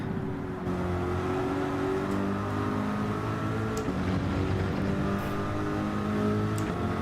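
A GT3 race car engine in the Gran Turismo video game on a push lap at St Croix, revving steadily with rising and falling pitch through upshifts, loud and continuous.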